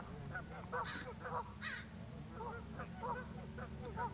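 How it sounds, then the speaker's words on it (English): Several harsh caws from a crow ring out in a steady series against a low background hum, with a few fainter bird calls mixed in. "The crow is crowing."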